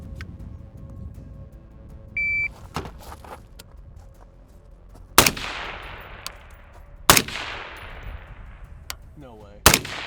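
Rifle shots fired at a steel gong target 300 out on an outdoor range: three loud, sharp cracks a couple of seconds apart, each trailing off in a long rolling echo, with quiet background between them.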